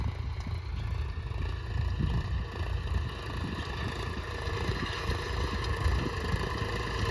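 Diesel tractor engine drones steadily around 1200–1300 RPM while pulling a harrow through a field, a constant low rumble with no pauses and no voices.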